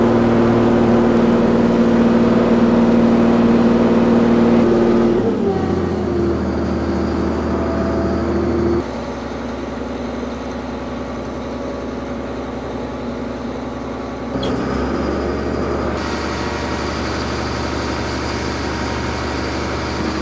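Allis Chalmers 210 tractor engine, overhauled and turbocharged, running at full throttle: a close, loud low-pitched drone that steps down and shifts in character partway through, then rises again.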